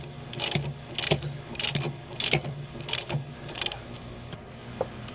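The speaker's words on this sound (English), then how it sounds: "we'll just get our 13 millimeter over here and start snugging that up." Ratchet wrench with a 13 mm socket snugging up a bolt during a steering rack replacement on a Dodge Ram 1500, heard as repeated bursts of clicking strokes at a steady rhythm, close up, with no talking.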